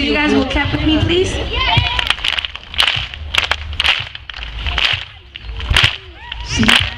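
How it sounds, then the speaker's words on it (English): Audience clapping in sharp, spaced bursts at a container library launch event, with a singing voice over the claps and a busy crowd murmur beneath. "so you guys will clap with me,"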